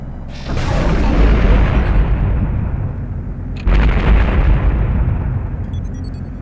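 Missiles explode against an enemy ship in the space game Space Rangers HD, a loud continuous rumbling blast that swells in, dips, then surges again with a second heavy burst.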